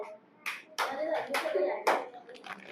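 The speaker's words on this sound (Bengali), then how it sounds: "ওটা সবাই জোরে হাততালি দাও" Several bursts of children clapping at a tongue-twister game, loud and uneven, coming in short rounds with brief gaps between them.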